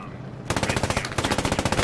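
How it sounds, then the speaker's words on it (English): Loud, close automatic gunfire in a video game: two rapid bursts of evenly spaced shots, the second following a brief gap. "Oh, they're shooting!"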